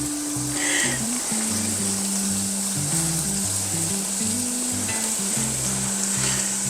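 Onions sizzle and fry in sauce in a hot pan, a steady close crackling hiss running throughout, with occasional stirring scrapes and no talk.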